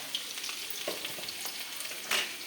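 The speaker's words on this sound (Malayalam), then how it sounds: "അപ്പോൾ കടുക് ആദ്യമേ വറുത്തു." Mustard seeds fry in hot oil in a pan for a thoran, a soft steady sizzle with scattered faint pops and a brief stir scrape near the end, no voices.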